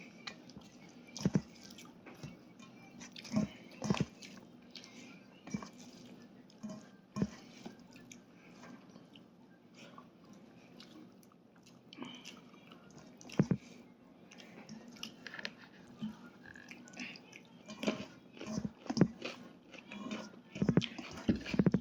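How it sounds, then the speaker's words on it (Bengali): Someone eats biryani up close, with soft wet chewing and occasional sharper bites and clicks spread over a quiet background. "অনেকদিন পরে একেবারে মন মতো বিরিয়ানি খাচ্ছি।"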